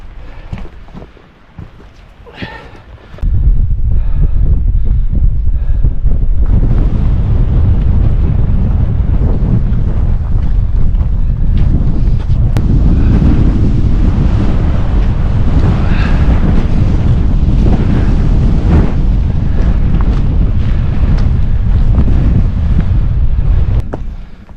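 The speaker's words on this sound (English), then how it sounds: "I feel the wind coming over the top of it" Strong, freezing winter wind sweeps over a hilltop and buffets the microphone in a loud, continuous low roar that rises suddenly after a few quieter seconds and keeps up steadily throughout.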